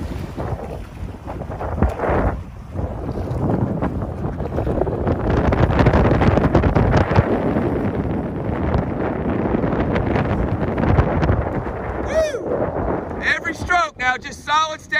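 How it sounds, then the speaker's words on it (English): Heavy wind buffets the microphone in a continuous roar on the water during women's eight rowing, with a few brief chirping sounds near the end. "It is so effing windy."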